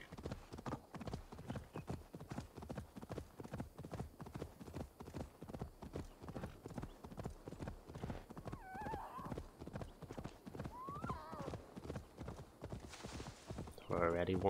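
Horse hooves pound in a rapid, steady gallop rhythm for the whole stretch, with occasional whinnies, in a Viking-era action video game; someone talks over the hoofbeats throughout.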